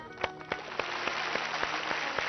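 An audience on a Telugu game show claps in a quick, uneven rhythm of sharp slaps, moderately close and sustained through the clip.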